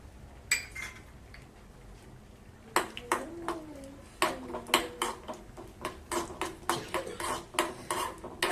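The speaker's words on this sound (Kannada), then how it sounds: "ತುಪ್ಪನ ಹಾಕೋತಾ ಇದ್ದೀನಿ ದ್ರಾಕ್ಷಿ ಗೋಡಂಬಿ ಎಲ್ಲ ಏನಿದೆ ಅದನ್ನು ಚೆನ್ನಾಗಿ ಹುರ್ಕೊಂಡ್ಬಿಡೋಣ" Raisins and cashews frying in ghee in a pan, stirred with a spoon: a quiet bed of sizzle under a steady run of metallic scrapes and clinks against the pan, growing busier in the second half.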